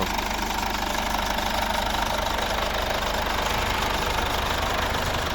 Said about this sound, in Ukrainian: Ну, ось і робота двигуна.